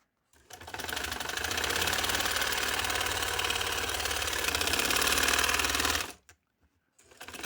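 A sewing machine stitches a design onto trouser sleeves, running in a steady fast mechanical whir with a rapid needle rhythm for about six seconds, then stopping abruptly before briefly starting again.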